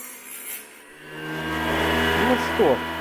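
A small homemade table saw built from AliExpress parts, powered by a 12-volt supply, spins up and bites into a piece of spruce or pine, a rising motor whine giving way to a close, loud rasping cut.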